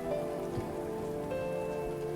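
Steady rain falls and patters on a surface, a constant wash of sound under a faint, even tonal hum, with no voices.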